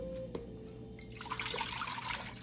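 Milk pours into a cheese-coated pot in the kitchen with a soft, close liquid splashing and gurgling that swells after a brief quiet start and continues steadily to the end, fairly faint overall.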